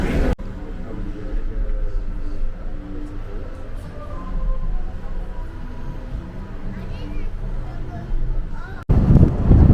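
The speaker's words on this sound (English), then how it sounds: "Very windy right now." Strong wind buffets the microphone on the deck 15 jogging track of the cruise ship Quantum of the Seas sailing to Alaska, a steady loud roar running throughout with a brief gap near the end.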